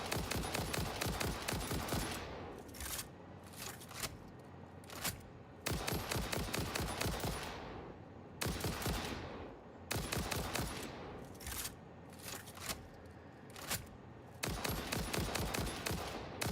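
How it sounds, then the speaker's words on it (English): Bursts of rapid video game gunfire from shooting enemies, loud sustained volleys separated by brief gaps, repeating throughout. "I can shoot them, they won't shoot me."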